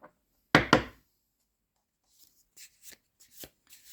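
A deck of tarot cards is shuffled with two sharp riffles up close, followed by soft, scattered taps and slides of the cards in a quiet room.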